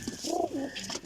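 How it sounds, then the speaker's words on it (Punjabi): Pigeons, round-winged flying birds, give a soft, close coo that rises and falls in a single rolling phrase, brief and alone. "ਕਬੂਤਰ ਵੇਖੋ ਇਹ ਪੱਠੀਆਂ ਪੱਠਿਆਂ ਨੇ"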